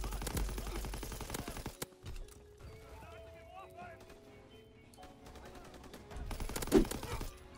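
STG44 assault rifle fire in a WW2 shooter game, with bursts of gunshots at the start and near the end around a quieter stretch, set against busy battlefield noise and game sounds.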